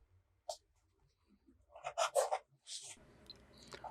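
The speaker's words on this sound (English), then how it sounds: "The next writing sample is done in a FieldNotes reporter's notebook." Fountain pen writing in a FieldNotes reporter's notebook, faint close scratching strokes in short bursts separated by quiet pauses.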